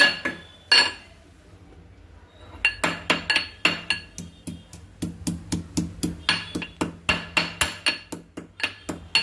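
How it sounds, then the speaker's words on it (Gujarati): Ginger is pounded in a mortar with a steady run of sharp, ringing thuds after a brief pause, each strike close and distinct with no speech. "જોઈ શકો છો આદુને હાવ ખાંડી લીધું."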